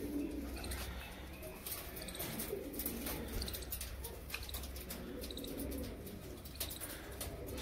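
Caged pigeons, a breeding pair, cooing in a steady run of low, soft coos that continue throughout at moderate distance, with a few faint chirps mixed in.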